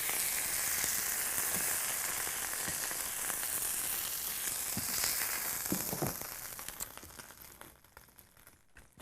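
Pork chops for an orange glaze sizzle loudly in a frying pan, a dense steady hiss with scattered crackles and pops, until the frying abruptly cuts out near the end and leaves near silence.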